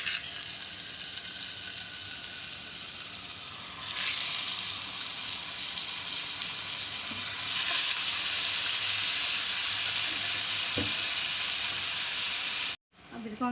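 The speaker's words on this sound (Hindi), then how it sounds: "अब हम इसको फ्राई करेंगे। एक फ्राई पैन में हमने 1 चमचा ऑयल डाला है सिर्फ" Marinated chicken tikka fries in a spoonful of oil in a frying pan, giving a steady, close hiss and sizzle that swells louder partway through and cuts off abruptly near the end.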